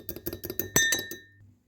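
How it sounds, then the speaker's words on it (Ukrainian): A fork whisks egg yolk and kefir, tapping quickly against the bowl in about eight bright, rhythmic clinks that ring out briefly before fading. "Беру жовток одного яйця і додаю до жовтка одну столову ложечку кефіру. Збиваю їх виделочкою"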